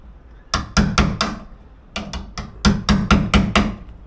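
A hammer bangs during building work, a run of sharp, loud, close strikes in two groups, four hits then a pause, followed by a quicker string of evenly spaced blows.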